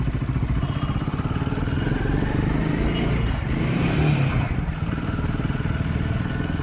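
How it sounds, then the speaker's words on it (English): Royal Enfield Himalayan 450 or KTM Adventure 390 motorcycle idling along in first gear with the clutch released, a steady low engine drone that stays close and continuous throughout. "देखो मैं first gear में डाल दिया. अभी इसे क्लच छोड़ देता हूँ."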